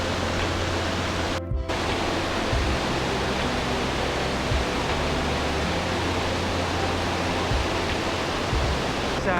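Whangarei Falls on the Hatea River in New Zealand pours as a loud, steady broadband roar of falling water, continuous and close throughout with no voices over it.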